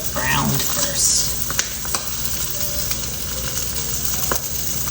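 Spam slices fry in a pan before any teriyaki sauce is added, giving a steady close sizzle with occasional crackles and a few light utensil taps.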